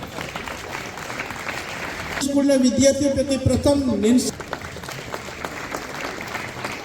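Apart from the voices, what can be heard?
audience applause at award ceremony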